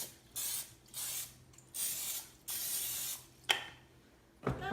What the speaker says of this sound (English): but I usually spray my pan.